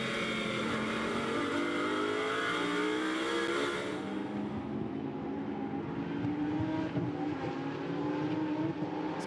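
Lamborghini Super Trofeo race cars scream past at the Nürburgring during a 2021 Europe race, a loud high-revving roar that peaks and then drops in pitch as they move away, leaving a lower rumble.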